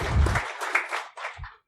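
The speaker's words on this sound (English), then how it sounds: "A round of applause." A security conference audience gives a brief round of applause, a short burst of clapping with a low thump at the start that trails off within moments.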